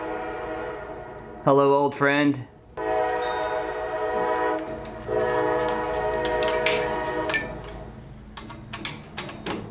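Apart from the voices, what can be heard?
train passing with horn sounding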